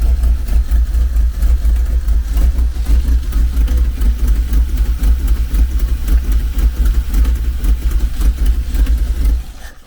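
A Reliant Scimitar GTE engine idles cold with a lumpy, uneven beat, a deep rumble running steadily and close up for the whole stretch before dropping away at the very end.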